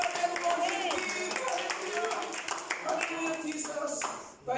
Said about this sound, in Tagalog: Kahit hindi ko sinabi pumalakpak tayo, pumapalakpak tayo.